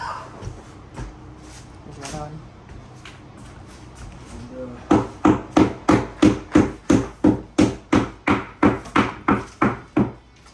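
A wooden dowel being driven into a drilled hole in an IKEA PAX wardrobe panel with a screwdriver handle; after quieter handling, a steady run of about a dozen sharp, evenly spaced knocks rings out close by.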